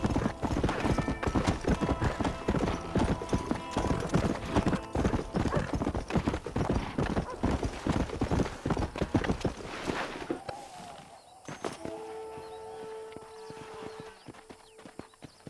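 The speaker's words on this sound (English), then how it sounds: "This steed looks right fetchy, I don't mind telling." Horse hooves clip-clop steadily in Red Dead Redemption, loud and close for about ten seconds, with a brief whinny and a quieter, sparser stretch of hoofbeats and ambient game sound afterward.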